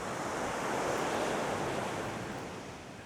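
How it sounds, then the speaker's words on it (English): Waves roll in steadily on a beach at Puerto Portals, Mallorca, a broad continuous wash of surf with some wind buffeting, loud and close, fading slightly toward the end with no voices. "there's actually waves coming in on this beach"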